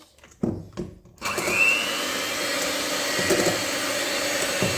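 Cupcake batter with olive oil is whisked after a few light knocks and clatters, settling into a steady, close, fairly loud whirring churn that holds to the end.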